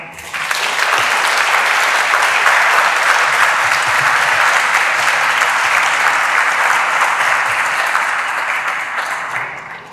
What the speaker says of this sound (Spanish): agradecer con un fuertísimo aplauso a nuestra consejera de Sanidad, Concepción Saavedra.